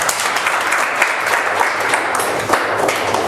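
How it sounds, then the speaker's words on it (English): Audience clapping at a church career guidance session, a loud, dense wash of hands with a few sharper claps, continuous throughout with no speech over it. "Just clap hands for you."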